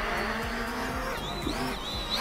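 Motors of a ZLL SG908 drone running outdoors on a windy day, a steady electric whine with rising and falling pitch sweeps, low wind buffeting underneath, no talk.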